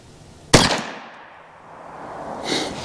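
A single CCI .22 rimfire round is fired into a ballistic gel block outdoors, giving one sharp, close crack with a short hissing decay, followed by a quiet stretch and a faint rustle near the end.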